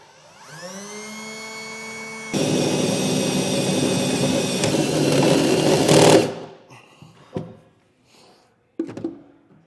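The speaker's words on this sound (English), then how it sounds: "we're going to use a 2 1/8 inch hole saw bit to make our hole for our plug" A 2 1/8 inch hole saw bit cuts through the bed of a 2021 Ram truck, a loud continuous whine that rises in pitch and strength for several seconds, then stops and gives way to a few brief clanks.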